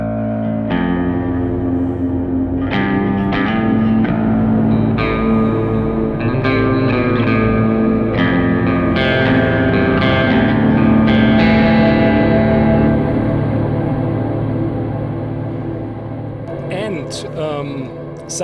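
Baritone guitar notes and chords ring out through a Kemper Profiler's dual delay and ionosphere reverb, echoes trailing and overlapping into a washy, sustained wall of sound.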